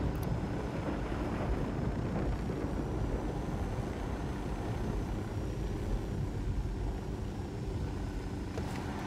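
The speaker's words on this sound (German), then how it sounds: "dass hier gerade ein Hubschrauber landet." Helicopter setting down in Ghost Recon Wildlands, a steady broadband rotor and engine roar that stays loud and even throughout, with no voices over it.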